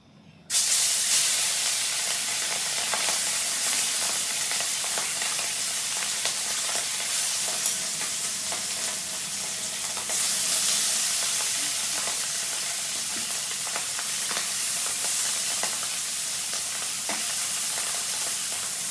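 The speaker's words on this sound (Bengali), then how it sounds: "তেল গরম হয়ে গেছে এবার আমি মাছটা ভেজে নেবো" Puti fish frying in hot mustard oil in a kadai, a loud, steady sizzle and crackle running without pause close to the pan, with no talking.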